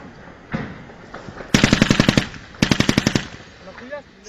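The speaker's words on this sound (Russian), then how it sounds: "Чё за дебил стреляет?" Machine gun fire at a Russian military base in Georgia, in two loud rapid bursts of about eight rounds each, preceded by a single shot, close and sharp, with brief voices in the background.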